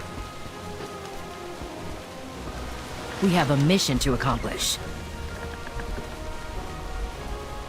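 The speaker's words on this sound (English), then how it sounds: "We weren't expecting rain." Steady rain in World of Warcraft hisses throughout at moderate level, with a short spoken line partway through rising briefly above it.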